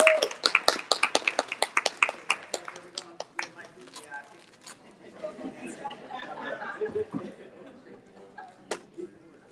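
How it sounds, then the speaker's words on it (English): Audience applause at a DeKalb mayors' roundtable, a burst of brisk claps that thins out after a few seconds into scattered claps and room chatter, with people talking. "let's give them a round of applause"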